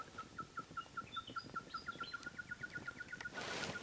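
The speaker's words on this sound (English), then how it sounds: "those two birds just behind me just landed in the tree there" Small birds give a rapid series of high, repeated chirping calls from a tree in the Flinders Ranges outback, clear and moderately near over low background rumble, ending in a brief burst of hiss.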